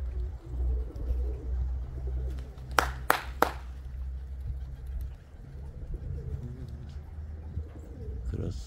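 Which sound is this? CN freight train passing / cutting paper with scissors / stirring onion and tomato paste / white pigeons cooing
white pigeons cooing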